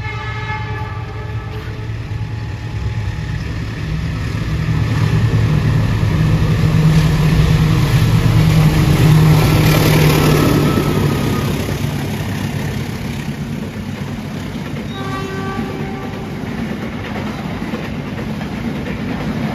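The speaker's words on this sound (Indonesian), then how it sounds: "Kereta api Sancaka melintas langsung stasiun Lempuyangan." A Sancaka passenger train rumbles steadily through Lempuyangan station without stopping, at close range, swelling louder midway with rail clatter, while tonal horn-like notes sound early and again near the end.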